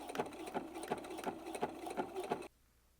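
A domestic sewing machine runs a back stitch along a seam with piping, its rapid rhythmic needle clatter steady and close for about two and a half seconds before stopping abruptly.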